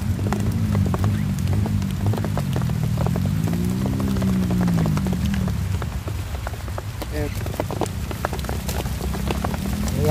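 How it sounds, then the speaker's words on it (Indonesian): Steady rain falls outdoors in Indonesia at a wild starling trapping site with nets, a dense continuous hiss of drops on surfaces, loud and close, while someone talks briefly over it. "bro, hujan ini bro."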